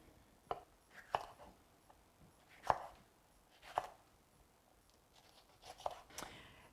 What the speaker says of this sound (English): I'm just going to take off the tops and slice them into smaller parts.